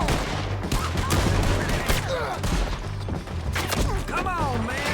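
Video game shootout with steady bursts of gunfire and booms over a low rumbling backdrop, shouting voices mixed in.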